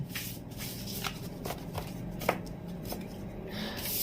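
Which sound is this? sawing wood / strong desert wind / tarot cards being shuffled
tarot cards being shuffled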